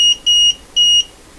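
A multimeter beeps while reading a voltage above 40 volts while testing a Conar Model 230 signal tracer: three loud, close, clean tones, the first cut short and the next two longer, with silence in between.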